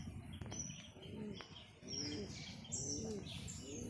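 Racing pigeons in a loft give repeated soft, rolling coos, close and fairly quiet, with faint higher chirps overhead.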